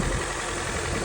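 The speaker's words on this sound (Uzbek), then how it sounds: "Ana motor holati ishlab turibdi" A 2010 Daewoo Nexia 2 running on methane, with about 360,000 km on it, idles with a steady, even drone that stays at one level throughout, close by and with no voices.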